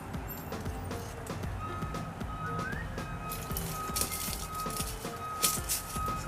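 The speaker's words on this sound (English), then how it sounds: "Sounds like an Amazon truck is here." Reversing beeps from an Amazon delivery truck arriving outdoors, a steady repeated high tone at moderate distance over garden clatter and rustling during raspberry pruning.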